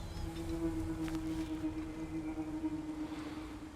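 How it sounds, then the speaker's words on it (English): The whale-like creature Lyngbakr in God of War Ragnarok gives a long, sustained low call that holds a steady droning tone above a constant watery rumble, with no talk. "Oh, it's a whale."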